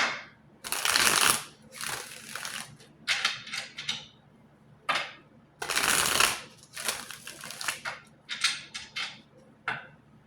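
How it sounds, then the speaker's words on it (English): Tarot cards being shuffled in several bursts of riffling and flapping, close and crisp, with short pauses between the shuffles and no talking. "I'm going to do 3 shuffles and we'll cut this one"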